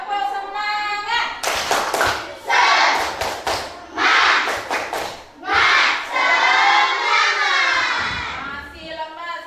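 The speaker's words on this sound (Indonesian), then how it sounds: "Tepuk semangat." A classroom of students doing a rhythmic spirit-clapping chant, sharp group claps in quick patterned bursts mixed with loud chanting voices, close and energetic.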